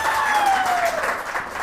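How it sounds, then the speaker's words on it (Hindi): Brief burst of studio audience applause on a Pakistani TV morning show, continuous clapping with a tonal whistle or voice line over it, fairly loud and close. "तालियां बजाइए।"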